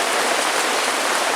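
Steady rain from a thunderstorm drums on a yurt, heard from inside as a dense, even hiss with no voices.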